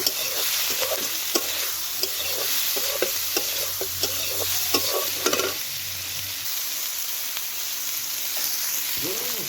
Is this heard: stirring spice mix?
yes